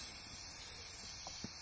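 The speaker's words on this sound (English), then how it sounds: "I'm gonna get some WD-40 to spray on there." A continuous hissing spray of WD-40 aerosol close by, onto an electrical connector of a Ford F-150 camshaft sensor, steady throughout with a faint tap near the end.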